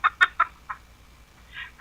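Several chickens cluck in short, sharp bursts close by, a quick run of calls followed by a pause and a few more, in an otherwise quiet rural setting.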